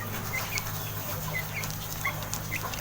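Soft, brief chicken clucks sound at intervals inside a loft, a few short chirpy calls over a steady low hum and background noise.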